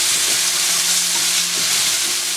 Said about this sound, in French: Là, on va mélanger tout ça 5-10 minutes avant de rajouter la tomate.